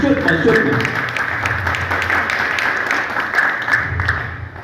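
An audience applauds at the first-anniversary celebration of AJPCN in Haiti, a steady wash of clapping running throughout beneath a speaking voice and background sound.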